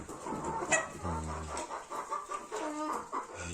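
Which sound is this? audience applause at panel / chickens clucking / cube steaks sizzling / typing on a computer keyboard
chickens clucking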